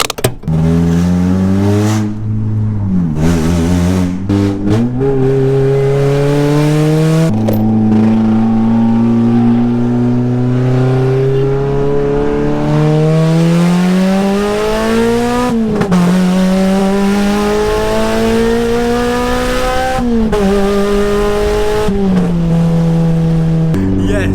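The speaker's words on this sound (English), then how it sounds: "we're just gonna test the VTEC to make sure it works" A Honda Civic EP3 Type R engine revved hard through its gears from inside the car, loud steady engine tone climbing in pitch repeatedly into VTEC with brief drops at shifts, and a voice talking over it.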